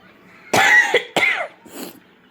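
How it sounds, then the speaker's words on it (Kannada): A person coughs in a rooftop terrace garden: two harsh, close bursts in quick succession, then a softer, breathier third cough trailing off. "ಕೆಮ್ಮು ಜಾಸ್ತಿ ಆಗಿದೆ, ವಾಯ್ಸ್ ಕೊಡೋಕೆ ಆಗ್ತಾಯಿಲ್ಲ"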